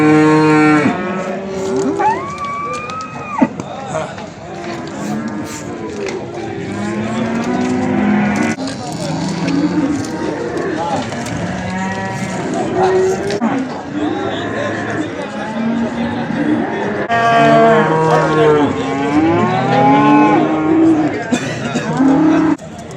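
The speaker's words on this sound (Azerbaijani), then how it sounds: "bax belə bir dana var, simental" A Simmental calf and other cattle moo repeatedly at a busy livestock market in Beylagan, long drawn-out calls near and far, mixed with steady chatter from men around them.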